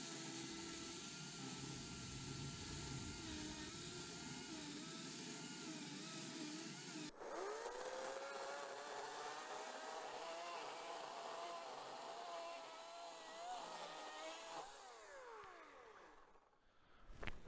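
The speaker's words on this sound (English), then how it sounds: "I've got my trusty electric chainsaw" A loud electric chainsaw whines steadily and changes pitch as it bites into a fallen log in a forest, running continuously before winding down near the end.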